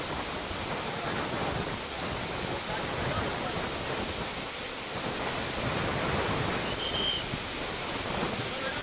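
A monsoon-swollen waterfall in the Western Ghats, surging over rock boulders, roars as a dense, continuous broadband rush, loud and unbroken throughout.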